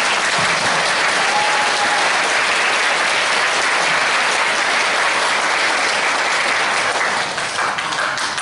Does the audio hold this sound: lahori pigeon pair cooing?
no